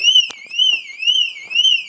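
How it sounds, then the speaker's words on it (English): An electronic car alarm on a Volkswagen Golf Mk5 wails loud and close, its pitch sweeping up and down in a steady repeating cycle, with a few faint clicks underneath. "The alarm works."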